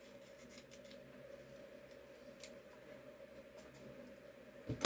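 Scissors trim aluminum tape while skinning model bomb bay doors, making faint, close snips and rustles over a quiet background hum, with a louder handling rustle at the very end.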